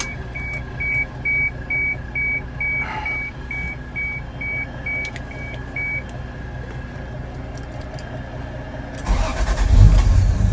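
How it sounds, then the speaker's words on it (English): A 1989 Toyota Supra MK3 with the 7MGTE engine chimes its warning beeps repeatedly for several seconds, then cranks and catches near the end with a loud, close rumble. "Let's go ahead and turn it on and see what it does."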